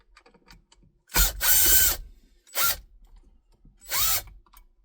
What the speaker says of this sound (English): So we'll take this screw off the bottom, and this screw.